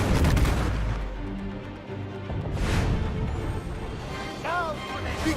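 Ship cannons firing in the Assassin's Creed IV Black Flag video game, heavy booming blasts and crashing impacts over a churning rumble, with a few short tonal cries in the background.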